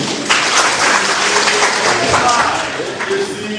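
A large crowd at a political rally in Kano applauds and cheers loudly and continuously, a dense roar of clapping and voices close by.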